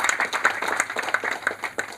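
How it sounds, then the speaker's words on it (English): A short, dense burst of audience clapping at a talk, with steady overlapping claps filling the moment and no voices on top. "Let's clap for our country."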